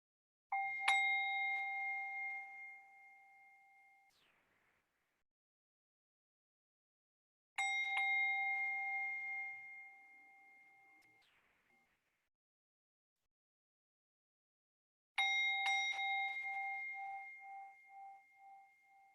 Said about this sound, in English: And we'll just listen together to the sound of the bell.